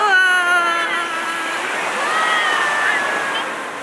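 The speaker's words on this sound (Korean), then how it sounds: "겨울바다 저 진짜 좋아하거든요. 물소리 한번 들어보실래요?" Winter surf rolls steadily onto the sand at Haeundae beach, a continuous broad wash of breaking waves with faint high tonal calls drifting over it.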